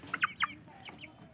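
Two-month-old Aseel Parrot chickens clucking in a few short, close, bright calls, a quick cluster near the start and softer clucks trailing after, with no talk.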